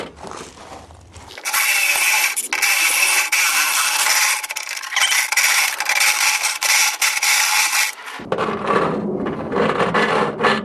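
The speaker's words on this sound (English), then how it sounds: "I need to drill this out so that this 3/4 inch goes through there" A loud, continuous grinding whine of a step bit cutting through a metal electrical box, starting after a brief pause and stopping abruptly, followed by lower rumbling.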